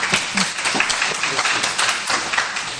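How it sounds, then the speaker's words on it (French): An audience applauding a World Bank director of operations at a panel in Côte d'Ivoire, loud continuous clapping from many hands with a few faint voices mixed in. "que je vous demande d'applaudir également"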